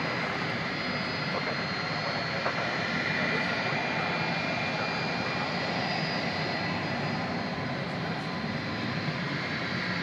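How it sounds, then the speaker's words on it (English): An American Airlines Airbus A321 jet arriving at DFW Airport after dark on a flight from San Diego, its steady broadband engine roar sustained and fairly distant throughout, with no talk over it. "Was flight 2073 American Airlines coming in from San Diego, California, an Airbus A321"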